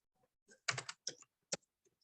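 Typing on a computer keyboard, quiet close-up key clicks in uneven bursts, a quick flurry of several strokes followed by a few isolated taps, with no voices.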